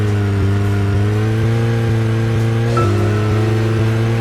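Car engine driving in the video game Red Seeds Profile, a loud steady drone whose pitch steps up and down as gears shift, with no voices over it.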